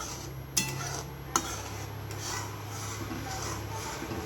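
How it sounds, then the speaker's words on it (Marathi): A utensil scrapes and rubs steadily around a pan as food cooks on a low flame, with two sharp clanks early on, close and continuous with no talk. "हे बघा, अशा प्रकारे आपण सारखं हलवत राहायचं आहे."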